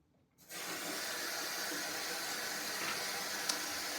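Water from a bathroom tap runs steadily and close by, a continuous hiss that starts after a brief quiet moment, used to rinse a safety razor during a wet shave.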